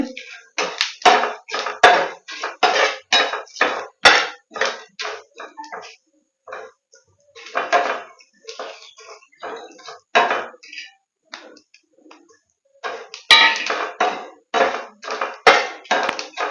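Tea in a pot is stirred and tossed, producing repeated clinks and scraping knocks of a utensil against metal in uneven bursts with pauses, close and fairly loud.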